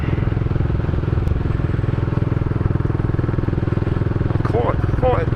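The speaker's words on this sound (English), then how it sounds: "They got Royal Enfield Continental GT 650" A Royal Enfield Continental GT 650 twin-cylinder engine runs with a steady, close, pulsing thrum throughout, while someone talks over it partway through.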